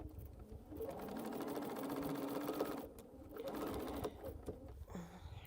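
A sewing machine hums steadily, fairly quiet, as quilt rows are stitched together in a home sewing session, with one brief slowdown partway through.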